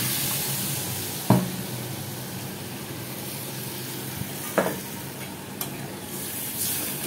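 Water poured into frying spice paste for a village-style fresh fish curry, giving a steady sizzle with a few sharp bursts and clanks from the pan, close and alone with no talking.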